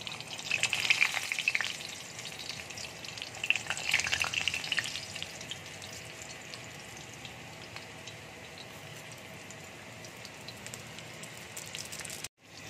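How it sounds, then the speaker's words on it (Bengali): Stuffed potatoes dropped one by one into hot oil in a wok, bursting into loud, bubbly sizzling with two sharper flare-ups early on, then settling into a steady, softer frying hiss. "এবার কড়াইয়ে তেল গরম হয়ে গেছে। এবার আমি এক এক করে তেলের মধ্যে দিয়ে দিচ্ছি।"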